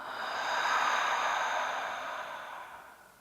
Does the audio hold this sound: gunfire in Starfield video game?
no